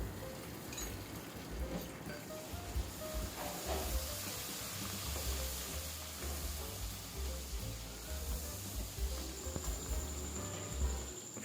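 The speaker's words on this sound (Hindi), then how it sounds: "जिंजर गार्लिक का पेस्ट डालेंगे और अच्छी तरह से फ्राई करेंगे ताकि उसकी स्मेल चली जाए" Ginger garlic paste frying in a pan, a steady low sizzle and hiss with soft crackles, fairly faint and close, continuing without a break.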